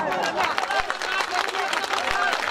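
A crowd at a public gathering addressed by a speaker claps loudly and continuously, dense overlapping hand claps forming a steady wash with a faint murmur of voices underneath.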